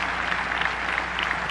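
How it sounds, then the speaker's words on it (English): Audience at a tennis Hall of Fame induction ceremony applauding, a steady patter of many hands clapping with no speech over it. "give him a round of applause."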